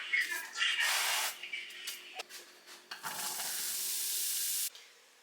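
Zucchini and other vegetables cooking in a pan, with bursts of close sizzling and stirring scrapes, then a sustained hiss that cuts off near the end.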